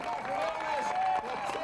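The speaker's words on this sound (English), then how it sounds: "the applause is just as loud for the next 3 over the line" Spectators at a mountain bike race applaud and cheer the finishers crossing the line, a lively crowd noise that runs steadily beneath a commentator talking over it.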